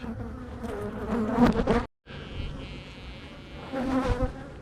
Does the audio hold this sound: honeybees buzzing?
yes